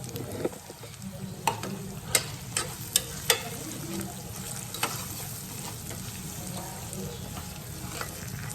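Garam masala and spices frying in a pan for a potato curry, a steady close sizzle broken by a handful of sharp stirring clicks and scrapes early on, no voices.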